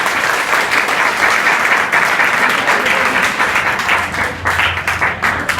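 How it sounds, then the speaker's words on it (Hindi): Loud, sustained group clapping by students in a school hall during an adolescent education program, a dense wash of claps that stays steady for several seconds. "नहीं, एक ताली और बजा दो।"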